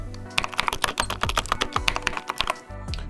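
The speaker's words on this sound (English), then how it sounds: "I think these switches sound pretty good" Rapid, clacky typing up close on a mechanical keyboard with electrical-tape-modded switches, uneven bursts of keystrokes with a few deeper thocks, like a larger key bottoming out.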